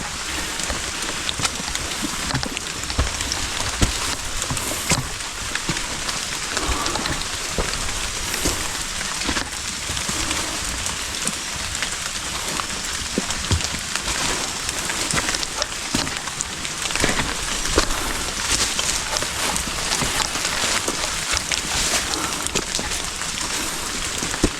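Steady rain falling on a mountain hiking trail at Gunung Tampomas in Sumedang, a dense, continuous hiss of drops pattering on surfaces, constant and fairly loud with no voices.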